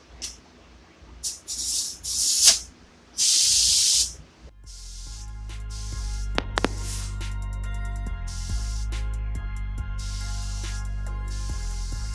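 Two short bursts of loud hissing spray from an Iwata SuperNova paint spray gun, then a steady low mechanical hum with faint clatter continuing after.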